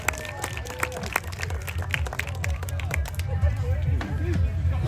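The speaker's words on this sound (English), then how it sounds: "Let's give Jacob a big round of applause for showing some of these cool turtles." A crowd at a local fair's turtle show applauds, scattered claps and cheering rising over a busy murmur of voices and a low rumble in the background.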